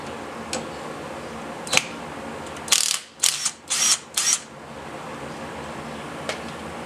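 A ratchet wrench working 13 mm bolts on a Porsche 911 suspension, giving a few quick bursts of clicking ratchet strokes in the middle, with light clanks before and after.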